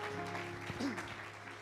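Congregation at a Sunday church service applauding and cheering together, a dense wash of clapping with a voice or two rising through it, steady and fairly close throughout.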